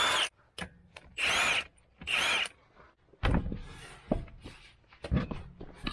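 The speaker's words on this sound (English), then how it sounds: "We're going to get started by taking the tire off." A tire is taken off a Dodge Ram 2500 pickup, with three loud, sharp mechanical bursts up close followed by scattered clunks and knocks of parts being handled.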